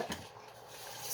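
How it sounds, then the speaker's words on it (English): A spoon scrapes and rubs around a pot while stirring Jamaican cornmeal porridge, a brief close grinding stroke followed by softer stirring, with no talk. "And you're gonna keep stirring,"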